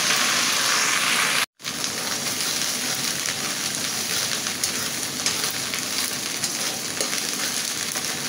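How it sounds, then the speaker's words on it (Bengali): Ginger and garlic sauté in hot oil in a pan, a steady close sizzle and crackle that runs almost unbroken apart from one brief cut near the start, with no talking. "আমার আদা রসুনটা সুন্দর করে আমি কষিয়ে নিচ্ছি"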